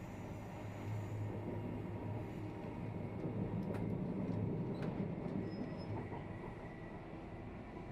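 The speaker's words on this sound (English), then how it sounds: "taking the train from the international airport into the city" Steady low rumble inside an airport-to-city train, a constant hum with faint rattles and a brief high tone, no voices.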